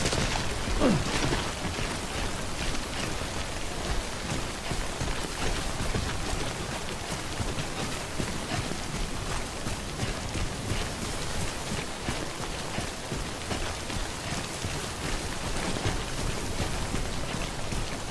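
Steady timefall rain in the video game Death Stranding pours in a constant, even hiss of drops on surfaces, continuous and fairly loud with no letup and no voices.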